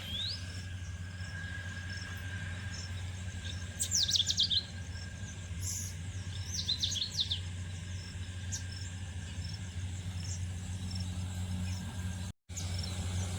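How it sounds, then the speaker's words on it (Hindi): Several birds chirp at dawn in short bright bursts over a steady low outdoor hum, fairly faint and a little distant. "चिड़िया मन कतका च्यू च्यू करे थे क्या मस्त मधुर ध्वनि निकाला थे"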